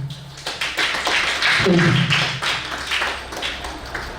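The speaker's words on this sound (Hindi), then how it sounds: "तो आप अपने लिए जोरदार ताली बजाइए" Seminar audience clapping together loudly at a celebration program in Delhi, a dense crowd applause with a voice rising over it partway through.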